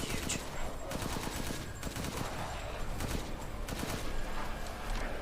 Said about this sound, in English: I'm wasting a lot of bullets.